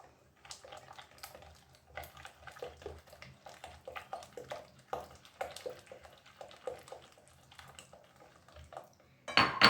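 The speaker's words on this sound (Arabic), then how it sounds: "انا كنخلط ونزيد عليهم الزيت" A utensil clinks and scrapes in a bowl while banana and apple cake batter is mixed, in quick, irregular, quiet taps. A louder, brief splashing rush comes at the very end as oil is added.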